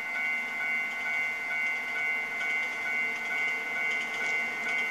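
Japanese level crossing signal in Trainz 2 with a steady, fast-ringing electronic ding pattern, moderately loud and continuous, with faint rumbling of a passing express train beneath.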